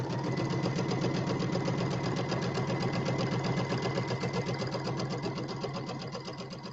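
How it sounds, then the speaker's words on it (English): A sewing machine runs nonstop stitching a St Patrick's Day settee pillow, its rapid needle chatter and motor hum steady and close before easing slightly toward the end, with no voices. "The sewing's a lot easier without with tripod legs down on the floor."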